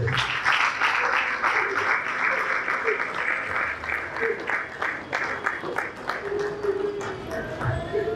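A church congregation at an evangelical service applauds in praise of the Lord, a dense, continuous round of clapping from many hands filling the room, with voices mixed in.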